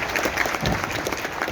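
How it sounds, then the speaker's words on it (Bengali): Steady audience applause at a Modicare leadership speech, with a dense, even clatter of many hands clapping throughout. "তার জন্য একটা হাততালি ছেড়ে দিচ্ছি"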